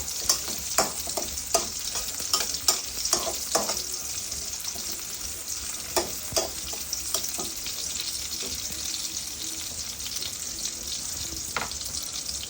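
Khichuri ingredients frying in a pan while a utensil stirs them, giving a steady bright sizzle broken by repeated scraping strokes, heaviest in the first few seconds and then sparser; close by, with no talk.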